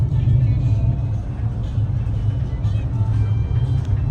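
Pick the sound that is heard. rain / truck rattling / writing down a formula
truck rattling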